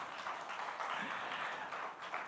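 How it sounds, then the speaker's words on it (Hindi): Audience applause at a live Hindi creators' stage event in honor of the host, a steady dense wash of clapping from a crowd, moderately distant and fairly even throughout. "जोरदार तालियां तो बिना कहे हो जानी चाहिए दोस्तों"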